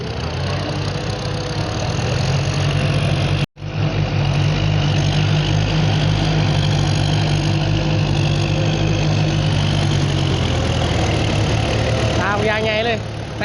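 Walk-behind tractor working a flooded rice paddy, its engine chugging steadily and loudly up close throughout, with someone talking over it.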